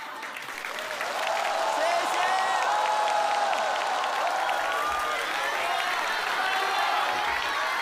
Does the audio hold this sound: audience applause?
yes